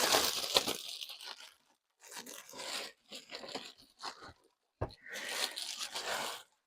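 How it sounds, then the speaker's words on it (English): A Brother FS40 sewing machine is pulled out of its plastic bag, giving several close bursts of crinkling, rustling plastic separated by short pauses, with no talking. "Get out of its plastic bag."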